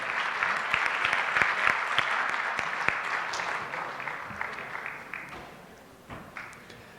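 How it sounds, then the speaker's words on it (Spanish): An audience at a public policy conference forum in Durango applauds the speaker with dense, steady clapping that gradually thins out and fades toward the end. "Fuerte aplauso para reconocer a nuestro expositor."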